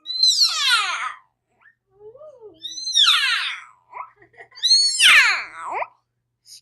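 A domestic cat meows three times, each call a drawn-out, wavering cry with pauses between, close and fairly loud in a quiet room, with a faint soft voice murmuring in one gap.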